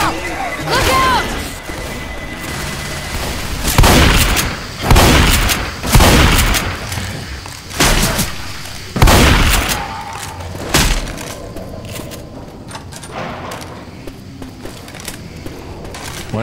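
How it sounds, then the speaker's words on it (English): Left 4 Dead 2 combat during the No Mercy or Crash Course campaigns brings a series of loud booms and crashing bursts of gunfire, several heavy hits spaced a second or two apart, then fading into quieter background action while a character voice shouts. "Grenade! Look out! Look out!"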